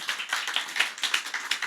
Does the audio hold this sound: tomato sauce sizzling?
no